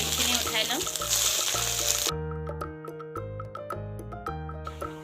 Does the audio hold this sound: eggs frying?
yes